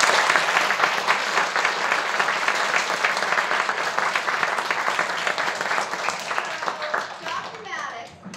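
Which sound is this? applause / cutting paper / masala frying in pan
applause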